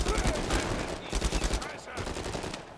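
Rapid automatic gunfire in Uncharted 4 during a firefight, bursts of loud, close shots rattling in quick rhythm, with someone talking in Swiss German between the volleys.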